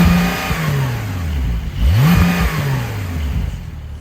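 The engine of a 2023 Porsche 911 992 Carrera Cabriolet, a convertible, revs through several rising and falling sweeps, dropping away before climbing sharply again near the midpoint, heard fairly close and moderately loud.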